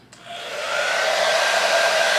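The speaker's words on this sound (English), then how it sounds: "I'm gonna go on my handy dandy blow dryer that I have for years on cool setting" A hand-held blow dryer on its cool setting switches on with a click, then its airflow rises to a steady, loud whooshing hum with a faint whine, heard close and alone.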